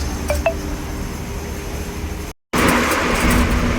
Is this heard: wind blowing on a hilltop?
no